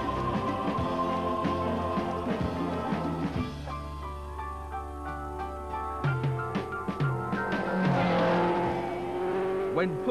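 A Lotus 49 racing car driven on a circuit, its engine note shifting through steady tonal harmonics with rises and drops as it changes pace, loud and close with a voice talking over it.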